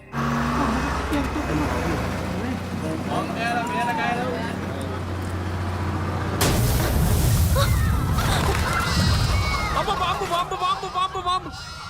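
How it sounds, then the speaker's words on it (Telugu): A bus tyre bursts with a sudden loud bang partway through, followed by a dense, noisy rush. Voices and a steady background hum can be heard before and after the burst. "పేలింది బాంబు కాదు బస్సు టైరు"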